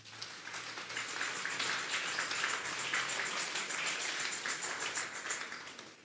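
A congregation at an evening Bible-study church service bursts into loud, sustained applause, dense clapping filling several seconds before tapering slightly at the end.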